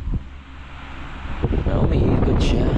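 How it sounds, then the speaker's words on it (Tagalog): A newly installed electric fan spinning inside a nipa hut (kubo), a low steady motor hum at first, then swelling into a louder rushing whoosh of moving air. "Okay na ang ating electric fan dito sa kubo"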